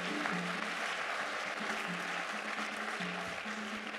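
A church congregation claps and cheers during a Sunday service, a dense, steady wash of applause that carries on evenly for several seconds.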